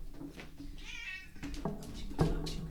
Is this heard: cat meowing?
yes